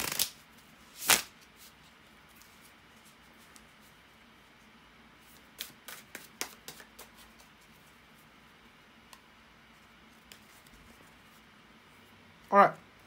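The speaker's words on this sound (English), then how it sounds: "bear with me a second, guys, to shuffle the tarot cards" Tarot cards are shuffled in a few quick riffling bursts, with scattered light ticks and taps in between and one more shuffle at the end, in an otherwise quiet room.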